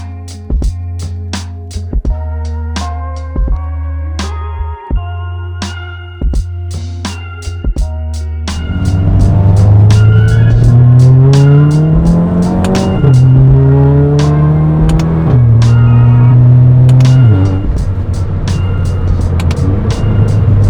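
A Volkswagen Mk7 GTI with a DSG gearbox and paddle shifters drives from a steady idle into hard acceleration, the engine revving up through several quick upshifts, loud and close from inside, with no talk.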